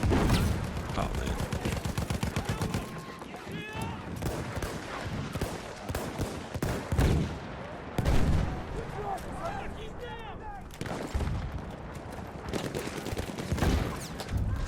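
Battlefield 1 artillery fire and gunfire rumble continuously, with heavy booms and rattling shots thundering back and forth, a voice occasionally heard beneath the battle noise.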